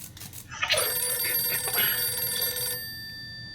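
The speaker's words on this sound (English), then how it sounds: "The phone rings on day 10." Old-style telephone bell from the video game 60 Seconds, ringing loud and close in one continuous burst of about two seconds, then cutting off and leaving a ringing tone that fades.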